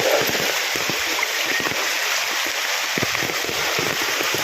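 Strong floodwater current rushes past as a loud, steady broadband roar with no breaks. Faint splashes and gurgles come through the roar.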